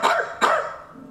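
A person imitating a dog with two quick, rough bark-like yelps, close and loud, the second slightly stronger, followed by a short fade.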